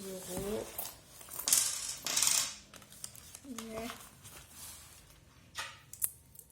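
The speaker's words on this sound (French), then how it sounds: "Et les petites pièces, je vais les mettre dans ma petite tirelire adéquate" Small coins handled and dropped into a piggy bank, giving a few bright metallic clinks and jingles scattered among quiet rustling, with a voice speaking softly in between.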